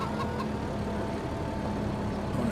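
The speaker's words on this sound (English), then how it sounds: "Chickens are making eggs." Chickens cluck softly over steady farm ambience in Farming Simulator 25, a low continuous bed with brief cluck sounds near the start and end.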